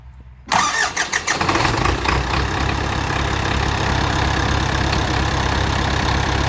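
An MTZ-80 tractor's diesel engine cranks and fires up after a brief quiet moment, a few uneven bursts settling into a loud, steady idle that rumbles on close by, with no talking.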